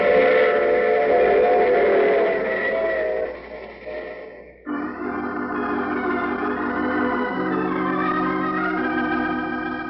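A loud, sustained train whistle blows in two long blasts with a short break between them, harmonic and piercing over low rumbling.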